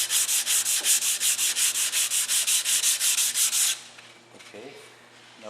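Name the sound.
sanding wood with 120 grit sandpaper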